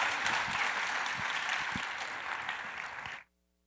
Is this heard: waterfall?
no